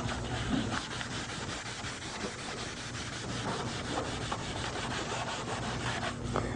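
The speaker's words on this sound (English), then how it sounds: "Now we're done sanding now." Steady, rhythmic scratching of sandpaper on a sponge pad rubbed back and forth on car bodywork during dent and rust repair, close up and continuous, with no talking.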